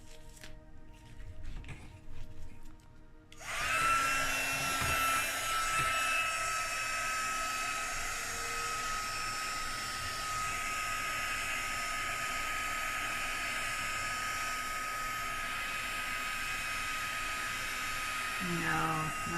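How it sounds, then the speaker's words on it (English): Heat gun blowing over resin spread on ceramic tile beach coasters, its loud steady rushing whoosh switching on after a few seconds of quieter handling noise and running on continuously close by. "I'm going to try blowing it around with my heat gun, see if I can recover."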